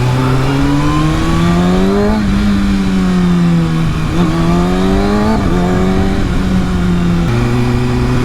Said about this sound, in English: First ride of the 2019 Kawasaki 636.